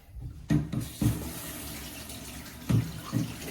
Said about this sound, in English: So I'm just running my tap